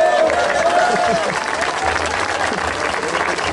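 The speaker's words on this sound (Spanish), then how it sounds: "¿Cuándo le dan un aplauso a Cristo, hermano?" A church congregation at a Spanish-language sermon claps in a thick, loud wave for a few seconds, while a voice is briefly heard over the start of the applause.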